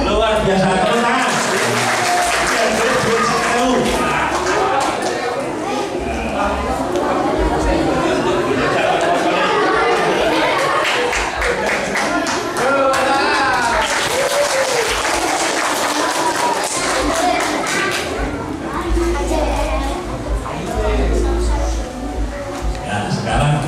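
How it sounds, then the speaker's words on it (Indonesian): A large crowd of schoolchildren at a scout jamboree event applauds, sustained dense clapping and cheering that runs steadily without pause, loud and close, with chatter mixed in. "Luar biasa, tepuk tangan."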